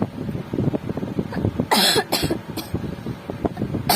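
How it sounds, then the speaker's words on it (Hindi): A few sharp, harsh coughs burst out close by, spaced across a few seconds, amid quiet background noise. "बहुत खांसी आ रही है ऐसे।"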